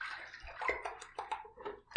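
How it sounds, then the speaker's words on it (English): Water gurgles and sloshes as a sink drains during a shaving soap lather session, with irregular splashes, drips and faint clinks close by, loud bursts rising and falling. "Let me drain the sink just a little bit."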